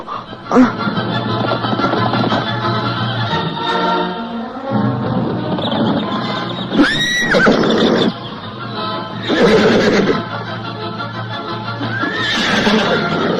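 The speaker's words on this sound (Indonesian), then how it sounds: "Oh, itu dia, si kuda setan menghampiri aku." A grey, wild horse neighs and whinnies in an audio drama, loud and close with a rising squeal midway, set against music and scene ambience.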